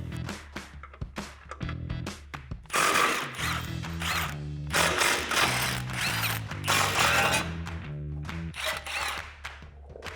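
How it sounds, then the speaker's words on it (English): Ratchet with a 15 mm socket clicking rapidly as it backs out factory bumper bracket bolts on a 2016-2018 Chevrolet Silverado 1500, loud close-up bursts of ratcheting in several runs with brief pauses between. "So grab your 15 millimeter socket and let's get these removed."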